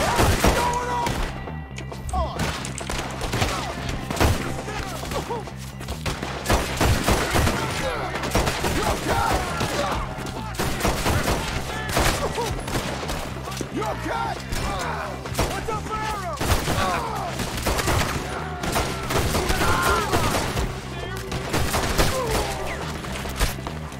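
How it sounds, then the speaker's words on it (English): Pistol gunfire in Red Dead Redemption 2: dense, loud volleys of shots crack out almost without pause, with a busy fusillade and thuds throughout, and voices mixed in underneath. "I'm just gonna grab my pistols and run around shooting everyone"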